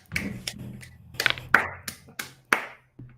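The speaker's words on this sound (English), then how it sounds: "I'm applauding." A single person claps hands at close range, about eight sharp slaps in an uneven rhythm, with short pauses between them.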